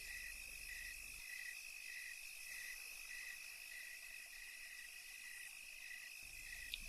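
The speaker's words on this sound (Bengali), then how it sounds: "কালো অন্ধকারের মাঝে শুধু ঝিঝি পোকার ডাক কানে ভেসে আসছে।" Crickets chirp at night in the dark, a faint pulsing trill repeating steadily over a quiet hiss, distant and with no one talking.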